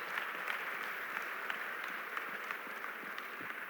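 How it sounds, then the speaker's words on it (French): A church congregation claps in sustained, even applause, a dense patter of many hands heard from some distance at moderate volume. "Acclame Jésus"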